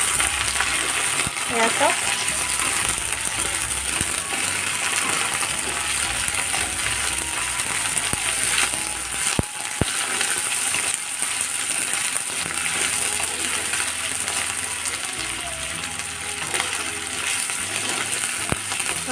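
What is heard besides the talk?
duck meat frying in a pan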